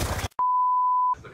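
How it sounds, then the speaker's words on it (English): A single steady electronic phone beep, held for about three quarters of a second, loud and clean in isolation between brief stretches of other sound. "Yep, I'm picking up my phone, calling 911."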